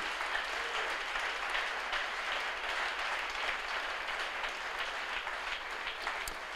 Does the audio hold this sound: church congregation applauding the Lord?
yes